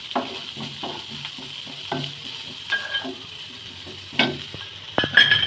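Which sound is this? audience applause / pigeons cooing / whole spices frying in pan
whole spices frying in pan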